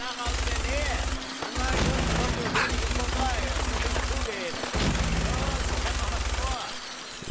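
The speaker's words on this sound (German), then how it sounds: "Ja, die Minigun, das ist so eine Hassliebe." A minigun in the video game Fallout 4 fires in long sustained bursts, a dense rapid rattling broken by brief pauses, with someone talking over the shooting.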